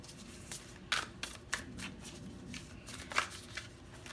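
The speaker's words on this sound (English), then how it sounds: "These cards are kind of hard to shuffle, but they give good advice." Tarot cards being shuffled by hand in a series of quick crisp riffles and slaps with short pauses between, close and fairly quiet, with no talking.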